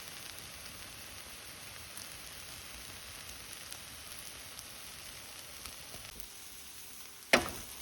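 Rehydrated freeze-dried egg with garlic and pepper frying in a pan, a soft, steady sizzle and crackle like light rain, ending in one sharp clink.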